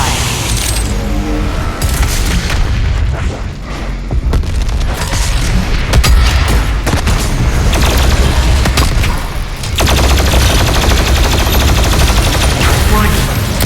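BFG 10,000 firing in Doom Eternal, a dense continuous roar of booming blasts and rapid gunfire layered over heavy game music, loud throughout with a brief dip near the middle.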